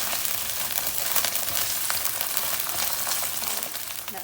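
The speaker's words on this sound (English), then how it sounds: "We'll cook this until the onion become brown and the garlic and the ginger is well cooked." Onion, garlic and ginger frying in a pan for dal curry, a continuous close sizzle with crackling pops, fairly loud and steady throughout, with no voices.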